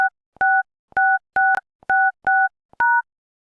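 Telephone keypad tones sound as digits of a phone number are entered at a voicemail prompt: seven crisp dual-tone beeps in a steady sequence, each brief and loud, separated by silence with faint key clicks.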